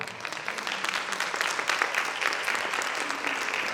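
An audience at a behavioral health equity conference applauds the Lieutenant Governor of Delaware, a full, even wash of clapping from many hands that holds steady throughout with no one speaking.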